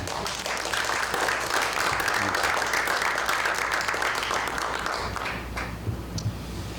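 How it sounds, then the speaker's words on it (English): A theater audience at a live show applauds steadily, a dense wash of many hands clapping that holds strong for about five seconds before thinning slightly at the end. "Let's give a round of applause for all of them"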